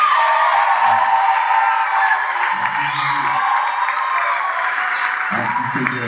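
An excited crowd of young people on a church group outing claps and cheers steadily and loudly, a dense continuous wash of applause with a few whoops rising above it.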